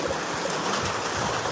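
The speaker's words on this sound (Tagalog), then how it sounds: "Baha na din po dito sa may kalsada namin." Floodwater flows across a residential road in a continuous rushing wash, like a stream, heard close and fairly loud with no voices.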